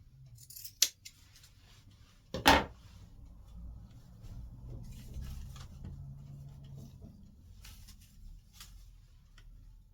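Scissors trim a bow on an artificial wicker door wreath: a couple of sharp, crisp snips stand out close up, with softer rustling and faint handling noises between them in a quiet room.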